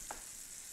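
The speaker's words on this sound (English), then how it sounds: "So we're gonna cook those on both sides." Salmon cakes fry in a pan with a faint, steady sizzle under a soft hiss, heard alone and with no talk.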